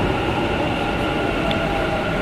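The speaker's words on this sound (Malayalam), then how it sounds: "അതിനുള്ള ട്രെയിൻ വെയിറ്റ് ചെയ്തിട്ടിരിക്കാം" A Bangalore Namma Metro train pulls into a station with a steady, loud, full-band rumble and rushing roar that holds evenly throughout, close by and without speech.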